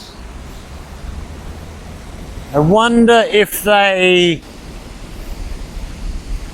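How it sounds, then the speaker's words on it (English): Water pours over a river weir in rural YunFu, China, a steady broadband rush heard from a moderate distance, with someone speaking briefly over it midway. "so we see the water running down"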